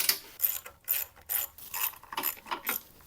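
An air box being pulled off a small generator engine gives a series of sharp plastic clicks, ratcheting snaps and rattles in quick irregular bursts, close and fairly quiet, with no voices.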